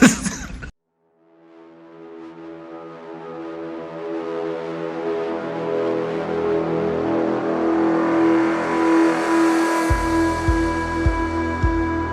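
A BMW Z4 GT3 race car engine climbs in a long, smooth rising howl toward a high-pitched scream, then sharp rev blips punctuate the end, loud and close.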